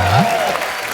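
A studio audience at a comedy show applauds in a brief burst of dense clapping, with a voice briefly audible over the start.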